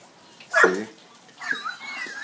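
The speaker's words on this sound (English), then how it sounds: "A dog suffering from this trauma." A dog during Tropical Storm Sandy in Jamaica lets out a brief, close whimper, followed by softer whines, in an otherwise quiet setting.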